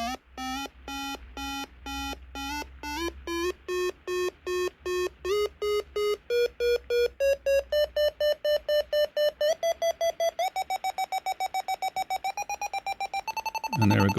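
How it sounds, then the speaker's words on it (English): Jeti MSpeed airspeed audio unit giving rapid electronic beeps for a model aircraft, pulses rising in pitch and quickening into a near-continuous tone as speed climbs past the limit, loud and clean with no voices. "it'll start the beep, beep, beep to tell us we're too fast"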